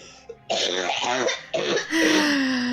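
Two loud, rough coughs close up, followed by a sustained throaty vocal sound.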